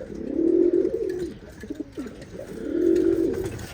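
Pigeons coo in two long, throaty phrases near the start and end, with a short quieter gap between them, close by and with no talk.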